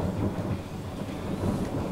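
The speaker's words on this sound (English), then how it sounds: "Seriously, do you hear that thunder?" A deep, continuous rumble of thunder rolls on without a break, heavy in the low end with a hiss of rain or wind over it.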